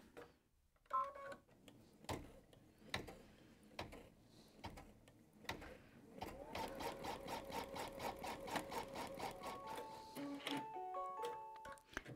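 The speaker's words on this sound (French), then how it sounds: "On va laisser la machine coudre de nouveau toute seule." A home embroidery machine stitches by itself while sewing a toy. After a few scattered clicks and taps, a fast, even mechanical stitching chatter starts up and holds close and steady for several seconds, with a few electronic beeps near the end.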